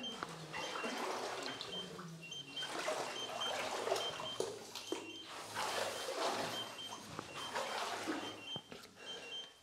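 Sloshing, splashing water as someone wades through a flooded passage of a copper mine, with uneven surges of movement and trickling, fairly close and without speech.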